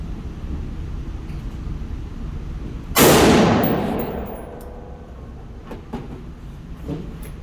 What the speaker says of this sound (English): Let me shoot it one time just to see.